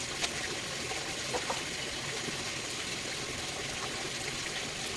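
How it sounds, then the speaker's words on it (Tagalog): Water steadily trickles and splashes into a container outdoors at a provincial house, a continuous even wash of sound with no voices. "Sinagsabay ko na rin yung pag-iipon ng tubig habang nagwawalis."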